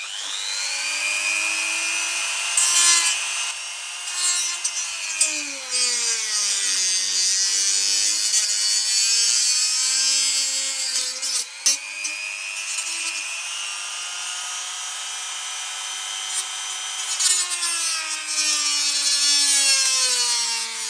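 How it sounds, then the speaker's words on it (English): Hand saw cutting a plastic Nerf BigShock blaster part, a continuous close, raspy back-and-forth rasp with wavering pitch, lasting throughout with brief pauses. "I'm going to cut backwards and forwards, and I'm going to flip it over and cut it on the inside"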